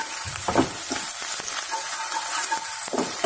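Ingredients stirred in a frying pan with asafoetida while making crispy balls, a close sizzle with a few spatula scrapes and knocks.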